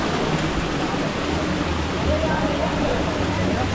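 A hidden forest waterfall pours with a loud, steady, broadband rush that fills the whole moment, and voices may be faintly present beneath it.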